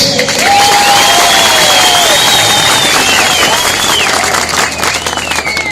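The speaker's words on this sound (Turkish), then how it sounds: "Ona bir alkış." A rally crowd at an AK Parti evening event in Çumra gives loud, sustained applause and cheering for a party district chairman, with dense clapping and whistles running steadily throughout.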